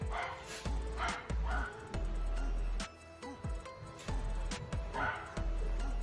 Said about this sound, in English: Once the dog starts to play.